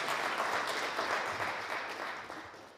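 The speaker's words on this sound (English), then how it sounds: "Let's clap for him." Audience applause for a speaker at a Pan African conference: a crowd clapping in a dense, continuous patter that gradually fades toward the end.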